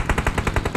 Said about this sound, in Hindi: सामने से फायर आता है